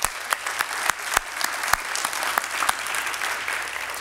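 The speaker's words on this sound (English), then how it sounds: "Can we get him a big round of applause?" Audience applause at a winter sports awards ceremony, a steady wash of clapping from a crowd with sharp individual claps standing out, sustained for several seconds.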